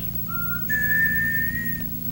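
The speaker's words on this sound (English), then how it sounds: "here's the whistle." A single steady whistled tone rises slightly and holds for over a second, close by, over a low hum in the background.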